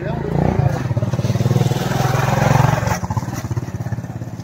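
Motorcycle idling while parked at the side of a parking area, a near, steady low chugging engine pulse with someone talking over it.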